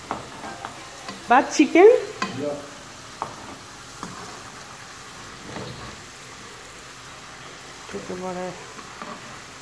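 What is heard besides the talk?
potatoes frying in a pan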